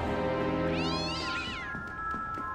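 A cat in the indie game 2Dark gives one drawn-out meow that rises and then falls, heard fairly close over a steady layered ambient drone, with no voices.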